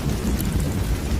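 Heavy rain pours down during a thunderstorm on a rainy night, with a deep rumble of thunder rolling under the dense patter for a brief, loud moment.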